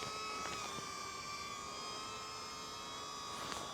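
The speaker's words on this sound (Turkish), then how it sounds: "drone yukarılara gidiyor" Steady high-pitched buzzing whine of a small DJI Neo drone's propellers as it climbs away outdoors near trees, a constant tonal hum with no talk over it.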